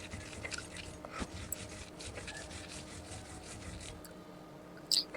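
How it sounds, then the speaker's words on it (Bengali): Garlic ground by hand on a shil-pata stone slab, a soft, close rasping and scraping rub with irregular gritty strokes and a few sharper knocks near the end. "এখন রসুনটাও দেখেন শিলপাটায় বেটে নিচ্ছি"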